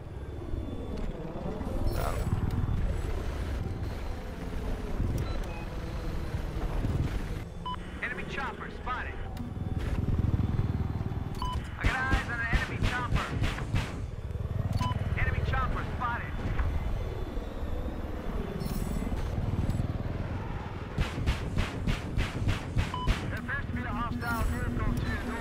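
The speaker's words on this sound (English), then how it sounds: "Transport chopper." A transport helicopter in the video game Battlefield 4 thrums loudly and steadily amid rapid gunfire bursts and explosions, with voice chat talking throughout.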